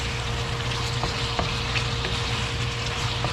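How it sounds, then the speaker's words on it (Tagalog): Braised pork belly sizzles steadily in a pan while being stirred, a dense continuous frying hiss with a low hum and a few soft scrapes and clicks of the utensil, close and without talk. "Haluin lamang po natin ito."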